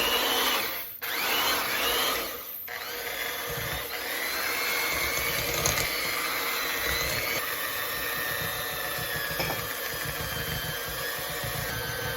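A small electric hand mixer beats pound cake batter in a steady, loud whir with a couple of brief dips near the start, then runs continuously with no talking.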